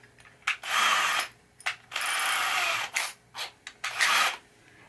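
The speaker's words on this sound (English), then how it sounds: "we can drill out that hole." Drilling out a hole in a 1980 Williams Firepower pinball playfield for a pop bumper nail screw: several loud bursts of a power drill grinding through wood, separated by brief pauses, close up with no talk.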